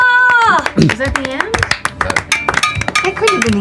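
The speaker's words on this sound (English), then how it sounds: "There's some clapping" Hands clap a few times, sharp and close, mixed in with people talking and exclaiming.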